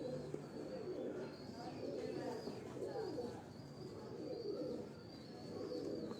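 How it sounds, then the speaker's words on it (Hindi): Lakha pigeons cooing in a loft, soft repeated throaty coos with a few faint chirps over a low background hum, moderately distant. "ये मेरे उस्ताद वाले कबूतर हैं जी, डॉक्टर अब्दुल गनी साहब वाले लाखे कबूतर हैं।"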